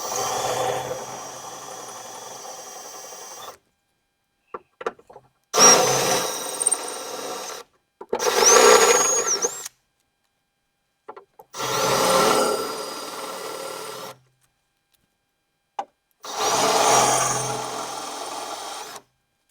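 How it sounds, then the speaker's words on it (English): A power drill bores out four rivets on the window regulator of an older Ford truck door, sounding as five separate loud bursts of grinding, whirring drilling with short pauses and silence between them. "drill out these 4 rivets"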